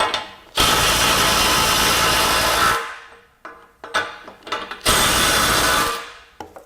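A DeWalt DCF890 compact impact wrench on a 5 amp-hour battery running in reverse to loosen a fastener, two loud sustained hammering bursts of about two seconds each, separated by short clicks and rattles.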